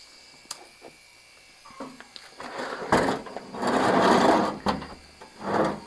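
An old refrigerator compressor motor, salvaged and reused on a farm, runs on its own. It makes a faint mechanical whir with irregular louder bursts of hissing noise, close by and with no talk.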